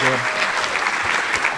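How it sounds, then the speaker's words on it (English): Loud, dense crowd applause fills a school varsity awards and Hall of Fame ceremony as an award recipient is honoured. A voice speaks briefly over the clapping at the start. "Please give him a round of applause."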